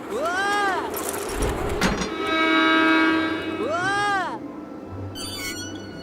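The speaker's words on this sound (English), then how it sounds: "Stand back and exercise caution as your train arrives." Train pulling into a station in the video game Deponia Doomsday, with two rising and falling whistle-like horn sweeps, a steady mechanical hum through the middle and a bright clatter near the end, all fairly loud.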